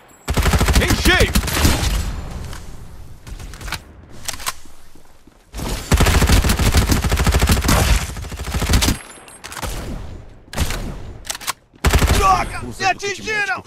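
Bursts of rapid gunfire in the video game Farlight 84 crackle in loud volleys separated by short quiet gaps, with brief Portuguese voice callouts between them.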